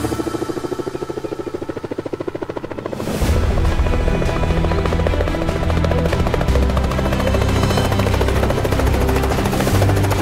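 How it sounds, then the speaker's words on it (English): A helicopter used for a giraffe capture in the bush gives a close, loud, rhythmic rotor chop, starting as a quieter whine, then surging into a heavy, steady beat that continues throughout; no voices are heard. "we're just waiting for the helicopter."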